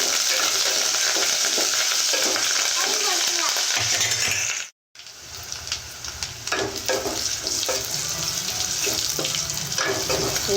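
Onion pieces and curry leaves fry in a hot pan with chillies, a steady loud sizzle interrupted by a brief silent gap, then crackling resumes with stirring scrapes.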